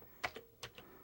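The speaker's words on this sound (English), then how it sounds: "It's kind of difficult to type it and film it at the same time." Keys on a Commodore 64 keyboard are struck in a few sparse, quiet clicks, roughly four separate taps with gaps between them, heard close and alone.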